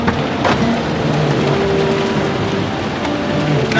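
Steady rain falls over a car, a dense, even hiss that runs unbroken throughout with no pauses, fairly loud and close, with scattered faint taps and a low rumble underneath.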